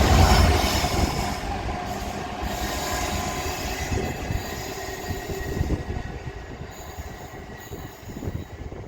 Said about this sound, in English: I knew it would be a freight train